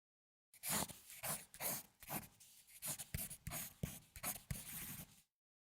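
Pencil drawing a window on paper: a close series of short scratchy strokes, each a quick rasping scrape with brief pauses between, moderately loud and heard alone.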